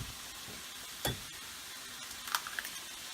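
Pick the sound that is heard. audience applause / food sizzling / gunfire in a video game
food sizzling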